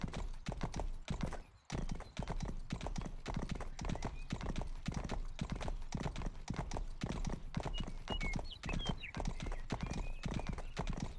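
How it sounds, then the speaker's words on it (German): Video game horse hooves: steady, rapid clip-clop, continuous and evenly paced for the whole stretch, with a brief dropout early on. "Unser Pferd Rari."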